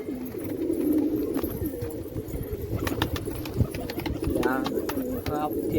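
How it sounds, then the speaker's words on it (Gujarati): Pigeons cooing near a loft, soft repeated coos over a steady background hum with a few faint flutters, fairly close. "આપણે કબૂતર ઉડાડવાના બંધ કરી દીધા."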